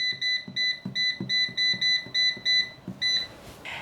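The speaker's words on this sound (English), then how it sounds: "The second 11-minute timer is up and the flats are ready." An air fryer's timer beeps in a steady rapid series of about a dozen high electronic tones, close and clear, as a batch of chicken wings finishes cooking, followed by a brief clatter.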